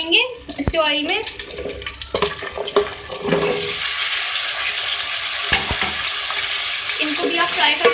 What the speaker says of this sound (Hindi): अब हम आलूओं को भी जो है फ्राई कर लेंगे इस ऑयल में।